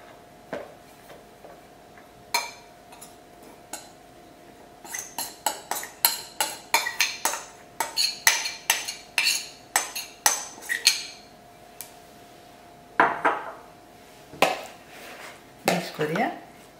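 Meatball mixture being mixed with breadcrumbs in a bowl, heard as a rapid run of clicking, tapping knocks of a utensil against the bowl that thicken into a busy burst and then thin out, close and crisp.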